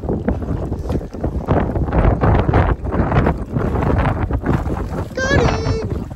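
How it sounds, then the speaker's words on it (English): Strong wind buffets the microphone on a boat during fly fishing for big trout, a steady roaring rush running the whole time with loud blustery gusts, while people talk over it. "It's bad windy, but we'll take it."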